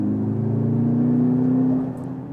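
A 2024 Mercedes-AMG GLC63 S E-Performance pulls hard through corners, a steady mid-pitched engine drone with a rising tone and a slight drop near the end, heard from inside the car without talk.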